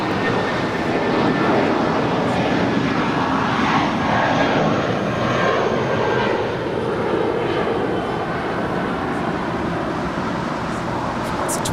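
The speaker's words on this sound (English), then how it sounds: "This is American Airlines Flight 899 departing to Phoenix." Airbus A320 jet, 22 years old, departing Los Angeles International Airport, its engines a loud, sustained roar that holds steady across the whole stretch with faint traffic beneath.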